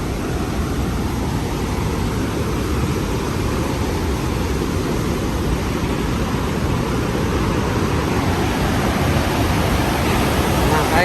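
Rhine Falls in Switzerland, one of Europe's largest waterfalls, roars with a steady, dense rush of water, loud and continuous throughout with no break or change in intensity.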